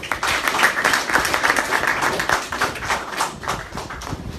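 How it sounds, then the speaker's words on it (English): Audience at an African summit on emotional intelligence applauds during a keynote speech, a dense, steady spatter of many hands clapping close by with no talk over it. "Just clap for yourself."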